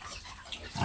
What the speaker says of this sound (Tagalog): ito na yung dalawa kong biik